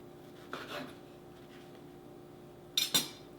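A kitchen knife slicing bread slices into thirds on a cutting board, a soft cut near the start followed by a quicker double cut near the end, faint and close against a quiet room hum.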